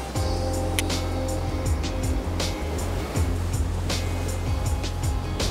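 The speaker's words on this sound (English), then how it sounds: "It's quite high now, the water, it's swirling around" Fairly high water swirls and rushes steadily at a landscape location, a continuous close wash of turbulent flow with low rumble underneath and no voices.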